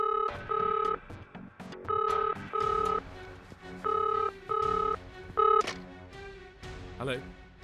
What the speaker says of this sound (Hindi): सर, श्रेया का फ़ोन है सर।